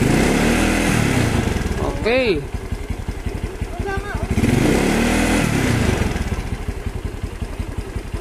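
Yamaha Mio Sporty scooter engine with a loud aftermarket exhaust, dragging and creeping forward at idle, runs steadily and close by with a throttle blip partway through, while people talk over it.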